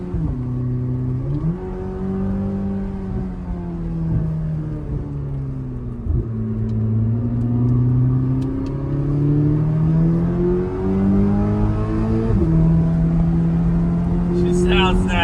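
Chevrolet Corvette ZR1 engine pulling hard in sport mode, its deep, steady drone rising in pitch through several gear changes over fifteen seconds, heard from inside the car with occasional faint voices.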